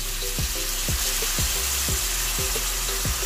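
Sizzling frying pan cooking chop suey with soy sauce going in, a steady hiss under a regular ticking of a utensil against the pan, close and fairly loud, with no talking.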